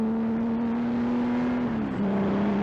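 A Porsche 935 race car cruising back in at low speed, its steady engine drone holding a constant pitch before dropping slightly as it eases off.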